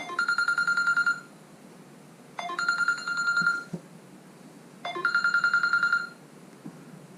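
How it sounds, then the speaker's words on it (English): A mobile phone rings with an incoming call in a workshop where a San-Mai blade is being worked. It plays three bursts of a bright repeating electronic ringtone, loud and close, with short quiet gaps between them. "Didn't expect my phone to go off."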